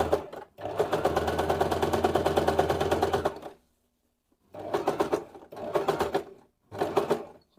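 A sewing machine stitches a hooded robe in close, rapid bursts of rhythmic clatter: one long run of about three seconds, a pause, then three shorter stitching bursts, with no talking.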